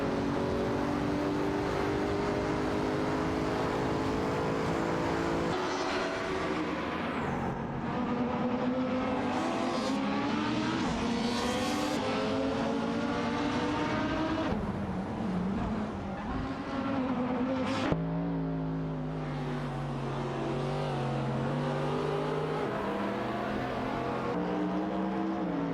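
Race cars from a video game speeding around a track, engines droning and shifting pitch as they pass and change gears, one layered engine roar after another, loud and continuous with no voices.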